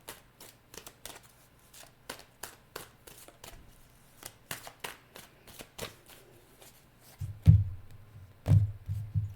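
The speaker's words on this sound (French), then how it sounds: "Je vais aller chercher 2 tarots pour clarifier ces 2 cartes" Tarot cards are shuffled and drawn by hand, giving a long series of quick, crisp card slaps and riffles at an uneven rhythm, close and fairly quiet, with a few heavier thumps near the end.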